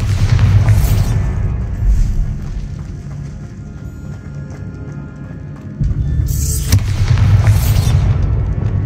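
Booming blasts from the Bombarda spell in the Hogwarts Legacy video game, heavy low rumbles with two loud bursts near the start and another pair near the end, separated by a quieter rumbling stretch.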